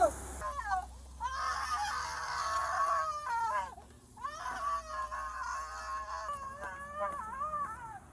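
A man at a school staff party screams and shouts in long, wavering, strained cries that rise and fall across several seconds with short gaps between bursts; fairly distant and somewhat muffled.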